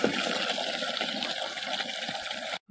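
Water poured into a diluted lime solution for plants, a steady splashing trickle with bubbling liquid sounds, close and fairly soft, stopping abruptly at the end.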